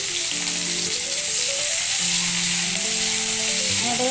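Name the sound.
onions frying in fish oil in a kadai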